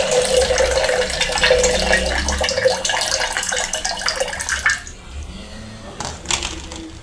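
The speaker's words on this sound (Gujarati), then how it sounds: "હવે આપણે તેનું પાણી કાઢી લઈશું" Soaking water being poured off soaked horse gram into a vessel, a steady running splash for most of the span that stops, then a few brief trickles near the end.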